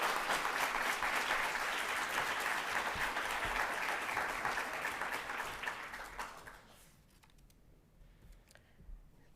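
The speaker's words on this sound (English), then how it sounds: "Let's get another round of applause" An audience applauds at a multicultural graduation celebration, a broad burst of steady clapping from many hands that fades out over the last few seconds into near quiet.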